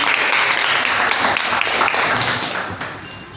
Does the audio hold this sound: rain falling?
no